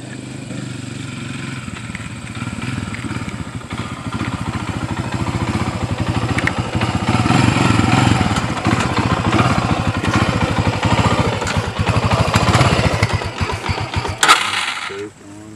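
Honda 300EX quad engine running, a rapid rhythmic chugging putter that builds slightly in loudness and then cuts off near the end, close by.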